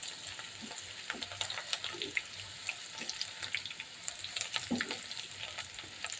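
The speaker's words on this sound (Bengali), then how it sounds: "আর আলু ভর্তার জন্য মরিচ পেঁয়াজ ভেজে নিচ্ছি" Chilies and onions fry in hot oil for mashed potato, giving a steady crackling sizzle with light stirring scrapes and small clinks throughout.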